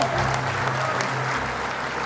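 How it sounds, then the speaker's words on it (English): A gala audience applauds its sponsors, a dense, even wash of many hands clapping that stays steady and fairly loud throughout, with a low hum underneath. "Let's have a round of applause for Jeff Hetherington and Family Care Health"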